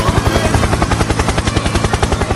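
A helicopter's rotor thumps in a fast, steady beat with a loud engine whine, close and continuous with no talk over it.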